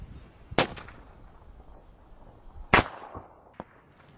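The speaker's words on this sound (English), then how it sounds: "I'm going to fire some shots." A 30-06 rifle fires outdoors, giving two sharp, loud gunshot cracks a couple of seconds apart with a faint echoing tail, plus a softer pop near the end, and no talking.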